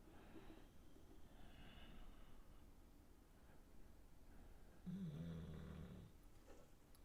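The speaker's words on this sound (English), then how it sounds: "He's snoring." A pet dog lying on the floor indoors snores quietly in a steady rhythm, with one louder, rougher snore near the end and a faint background hiss.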